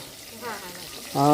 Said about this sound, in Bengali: বাকি কপি শেষ ভাজা